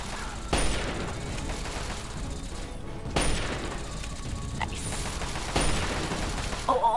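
A Fallout 3 firefight against Talon Company synths, with loud bursts of gunfire and heavy booming blasts starting three times over a constant rumbling din, close and intense, with no clear speech.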